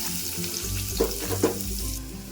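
Chopped onion and green chilli fry in hot oil, a loud close-up sizzle with a couple of sharp stirring scrapes through the middle and no talking.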